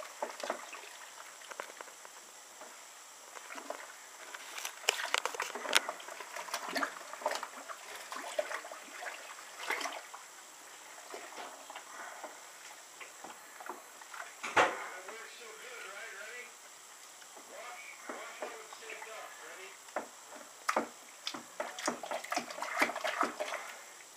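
Crushed grain being stirred into hot strike water for a first all-grain beer brew, giving patchy wet sloshing and gritty rustling with irregular splashy bursts, close and moderately loud.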